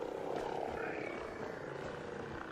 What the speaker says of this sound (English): how many drones live here?